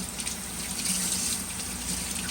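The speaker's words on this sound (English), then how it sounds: "we're going to wash our shallot / scallions in water" Scallions being washed under a running kitchen tap, a steady close splashing stream of water with slight fluctuations as the greens move through it.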